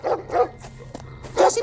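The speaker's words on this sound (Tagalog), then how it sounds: "Kumakahul ang aso." A dog barks in a Filipino setting, several sharp barks in a quick burst, then a louder bark after a brief pause, fairly close and clear with no talk over them.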